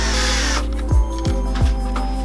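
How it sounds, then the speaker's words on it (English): Drill pre-drilling screw holes for a speaker mount in a Ford Raptor, a loud close motor whine that winds down, followed by a few short revving bursts as the trigger is pulsed. "That means we're gonna pre-drill our holes."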